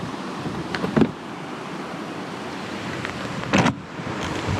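A river rushes steadily beside an outdoor car-camping kitchen, a constant broad wash of flowing water heard up close, broken by a couple of brief knocks.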